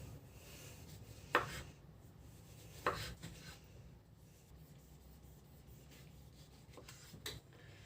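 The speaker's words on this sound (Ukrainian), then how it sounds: "Нарізаємо наші помідорчики." A knife cuts tomatoes on a board, heard as a few separate soft, close chopping strikes spaced a second or more apart over faint background, with no talking.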